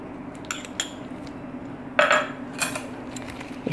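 Mashed potato cutlet ingredients with cumin, crushed red chilies and mayonnaise are mixed in a bowl, a utensil clinking against it a few times amid soft scraping.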